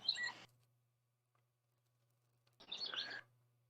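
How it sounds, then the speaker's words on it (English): Two brief bursts of bird chirping, a second or so apart, sound faintly in the distance over a low steady hum. "So we hear your birds in the background."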